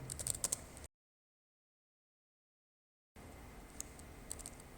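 PHP code is typed on a computer keyboard in quick, close, light clicking bursts, broken by a stretch of complete silence in the middle.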